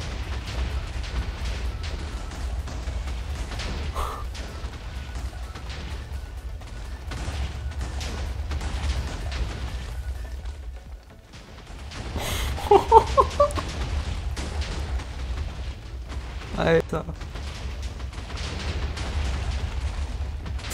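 Video game explosions: deep rumbling booms and a cluster of sharp explosive bursts rise out of a steady low roar, followed by a few more scattered blasts.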